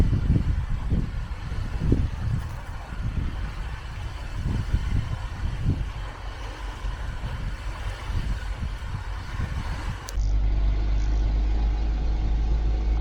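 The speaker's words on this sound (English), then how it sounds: "I'm driving up north" A camper van driving on the Isle of Cumbrae in Scotland, its interior engine and road rumble loud and continuous. A deeper, steadier drone takes over near the end.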